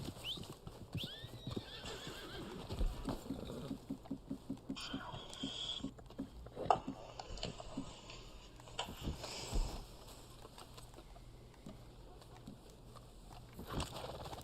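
A horse in the video game Red Dead Online trots with rhythmic clip-clop hoofbeats and gives a whinny, moderately close, with faint ambient game sounds around it.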